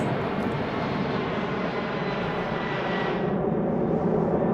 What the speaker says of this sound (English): Plane crash!